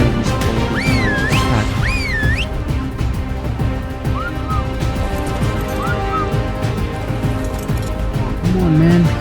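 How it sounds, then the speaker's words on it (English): A player character in ARK whistles commands to two Rexes, with several rising and falling whistle calls standing out over loud, busy game noise including crashes and thuds, plus low roars near the end. "I whistled for the Rexes to attack or follow me, both of them"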